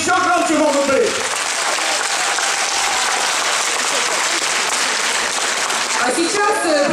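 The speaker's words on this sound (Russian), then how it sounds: "Аплодисменты еще громче могут быть." Audience applause at a Mother's Day concert in a community arts centre, a loud sustained wash of clapping that fills the hall, with a host's voice speaking briefly at the start and again at the end.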